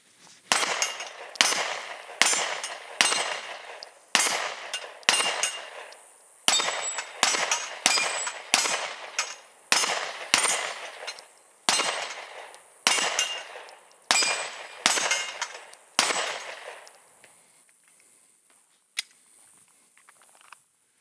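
Gunshots ring out on swinging steel targets, about twenty sharp impacts in quick pairs and bursts, each followed by a bright metallic ping that fades, stopping near the end with one last distant clank.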